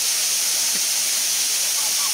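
Bara Kanya waterfall pours steadily amid hills and forest, a broad, continuous hiss of falling water filling the scene at close range without break.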